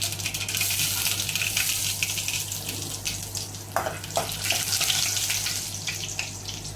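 Mustard seeds and shallots splutter in hot coconut oil in a heated pan while cooking pappadam curry, a dense, steady crackle and hiss with scattered sharp pops, close and fairly loud throughout.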